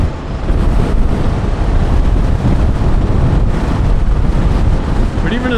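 Steady, loud wind roars and buffets the microphone as a rider travels at speed on a 2025 Royal Enfield Himalayan motorcycle, a constant close rush of air with no break.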